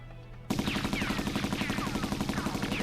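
Rapid machine-gun fire bursts in abruptly and keeps going as a loud, steady automatic stream of shots, with ricochet-like whines during an action scene in an anime episode.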